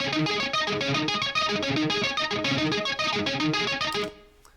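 A dense DeepMind synthesizer run through an amp-modeling processor plays a busy, distorted pattern with a warbling effect, loud and continuous until it cuts off abruptly near the end.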